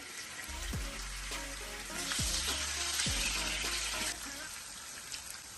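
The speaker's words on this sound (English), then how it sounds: "I will fry my sausage first" Sausage fries in seasoned vegetable oil with a steady crackling sizzle, and a few low knocks of the pan or utensil come through close up.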